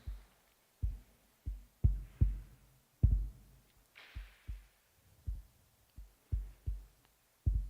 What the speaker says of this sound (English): like the beat of this drum, like the heartbeat of our living universe.